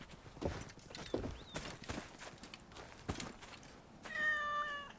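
A cat meows in Assassin's Creed Origins, a short clear meow near the end following game footsteps and hoof clops.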